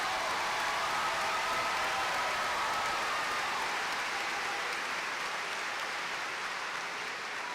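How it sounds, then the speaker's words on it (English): An audience claps steadily for graduates at a 2022 high school graduation ceremony, a dense, even wash of applause that holds for several seconds and fades slightly toward the end. "Join me in applauding these graduates for their accomplishments."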